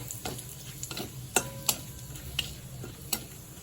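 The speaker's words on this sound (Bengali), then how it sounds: "আবারও একটু নাড়িয়ে নেব।" Dried red chilli and cumin seeds being stirred in an oiled frying pan, with quiet sizzling and sharp intermittent clicks as a spatula scrapes the metal, close and faint.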